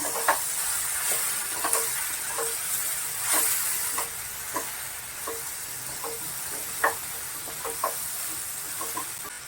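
Tomatoes are stirred into potatoes, beans, aubergine and lentil dumplings frying in a pan, with a steady sizzle and hiss and repeated spatula clicks and scrapes, close up and without speech.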